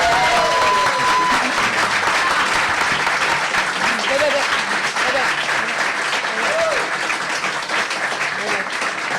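A room full of people applauds two mayoral candidates after a debate, loud continuous clapping with crowd murmur and a few voices mixed underneath.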